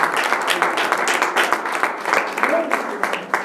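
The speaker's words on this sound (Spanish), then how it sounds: "Fuertes aplausos al Señor." A church congregation applauds during a sermon, a dense patter of many hands clapping loudly and continuously, with some voices mixed in.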